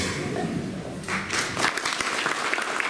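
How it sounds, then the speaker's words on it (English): Applause at a Sasquatch conference in Forks, Washington begins after a moment of murmuring and grows into a full round of clapping from a crowd. "Give a big round of applause to Myrsell."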